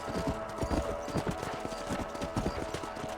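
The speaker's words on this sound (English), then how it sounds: "Let's get back on the horses and see what else is going on." Horse hooves clip-clopping in the Red Dead Redemption video game, a steady close rhythm of hoofbeats at a trot, with faint background sound beneath.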